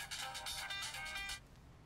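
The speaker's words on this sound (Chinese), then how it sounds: "又是同一个号码，好吧，我就当着你的面接他的电话" A mobile phone ringtone for an incoming call, a short bright electronic melody pulsing for about a second and a half, then stopping.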